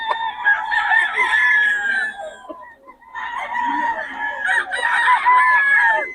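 Roosters in Bocaue, including a three-year-old cock, crow loudly and cluck in two long bursts with a short pause between them, close and clear with no talking.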